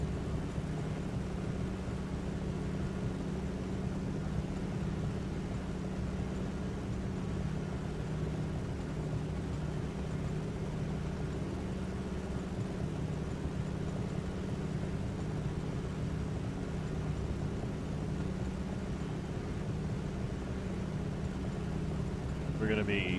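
The de Havilland DHC-2 Beaver's piston engine in Microsoft Flight Simulator 2020, a flight toward El Paso, Texas, a flat, constant low drone running throughout at moderate level, with a voice talking over it.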